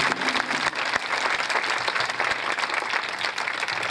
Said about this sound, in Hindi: जोरदार ताली बजाएंगे पवित्र आत्मा की